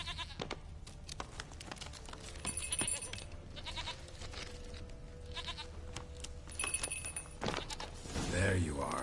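Goat bleating in The Witcher 3, heard amid game ambience and music, with a speaking voice over it.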